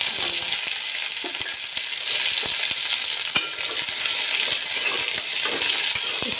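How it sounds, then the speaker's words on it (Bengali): Bitter gourd fries in hot oil with black cumin seeds, giving a continuous loud sizzle dotted with sharp crackles and pops, and no voices. "এবার লাল লাল করে ভেজে তুলে নেব।"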